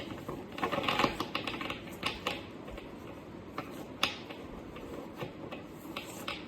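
Tarot cards are shuffled by hand in a quiet indoor setting, giving a soft, rapid patter of dry clicks and riffles that come in uneven bursts and then thin out to scattered taps.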